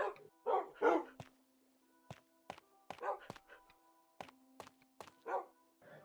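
Pet dogs in the video game Minecraft give a series of short, sharp barks at irregular intervals, some in quick pairs, over a quiet, soft tonal background.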